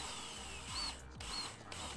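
Power drill boring a hole during installation of an AeroFlow Dynamics front splitter on a car, a steady whirring drone with two brief pitch drops as the bit bites, loud and close with no talking.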